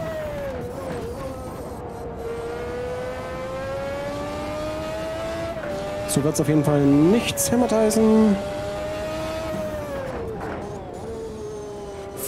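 Engine of a McLaren MP4/6 Formula One car in the Automobilista 2 racing game, a high sustained whine that rises and dips through gear changes, with a sharper rev burst midway and someone talking over it.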